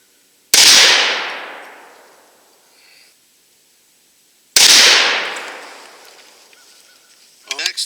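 Two loud, sharp Desert Eagle pistol shots firing Hornady 300 grain jacketed hollow point rounds outdoors, spaced about four seconds apart, each with a long ringing decay, followed by a brief voice at the end.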